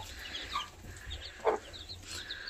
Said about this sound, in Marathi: चांगल्या क्वालिटीची अशी आपली नवीन पिल्लं कोंबडीनी काढलेली आहेत